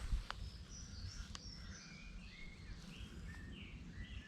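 Faint birdsong along a countryside cycle path: a few distant chirps and thin whistled calls over a steady outdoor hum, with no talking.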